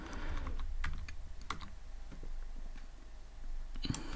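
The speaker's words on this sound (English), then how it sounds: "Let's type" Computer keyboard typed on at a desk while coding in Python, a quick run of close, light key clicks with brief pauses, fairly quiet against low room hum.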